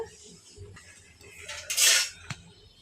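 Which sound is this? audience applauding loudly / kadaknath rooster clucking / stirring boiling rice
stirring boiling rice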